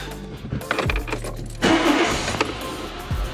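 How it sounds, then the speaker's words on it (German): A Dacia Sandero 1.4 MPI engine with ignition misfires runs with a low steady rumble, joined by small clicks and rattles and a brief louder surge partway through. "Auto läuft ganz normal, wie es sein soll."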